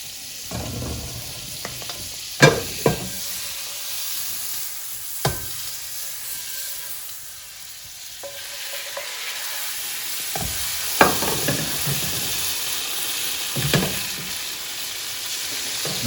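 French toast fries in butter on a stove with a steady, close sizzle, broken by a few sharp clanks and scrapes of a utensil against the pan; no talking.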